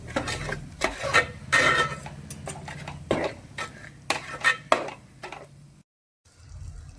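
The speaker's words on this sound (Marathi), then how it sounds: "ते हलवून घेते, सगळं मिक्स करून घेते." Fish coated with fish masala and turmeric stirred and mixed in a pot, giving irregular scraping and clattering strokes of a utensil, fairly close, followed by a brief pause and a softer rustle.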